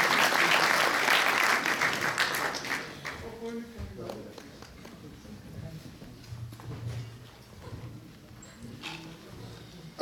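Audience clapping at a Punjabi community seminar as a guest comes to the stage, strong at first and fading after a few seconds into scattered claps, light footsteps and murmuring.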